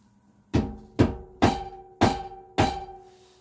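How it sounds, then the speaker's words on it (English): A hammer taps a floor board during a 5th wheel RV slide-out floor replacement: five sharp, evenly spaced knocks close by, each with a short ringing decay, with no talking. "just take that hammer right in the middle of the board and just tap it my way"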